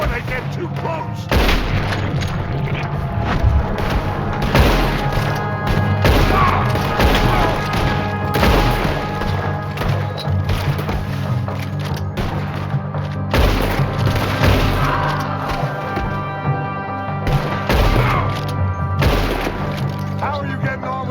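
A Red Dead Redemption 2 shootout with loud, dense bursts of gunfire and heavy booms firing almost continuously, mixed with shouting voices throughout.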